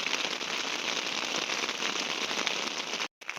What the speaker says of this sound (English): As you can hear, the rain's picked up again.